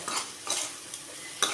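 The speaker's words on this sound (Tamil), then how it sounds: "அப்பப்போ அந்த பக்கம் நம்ம வெண்டைக்காயை நல்லா கிளறி விட்டுக்கிட்டே இருக்கணும்" A spoon stirring okra as it sautés in masala in a pan, a few quick scraping strokes over a soft sizzle, close and moderately loud, with no voices.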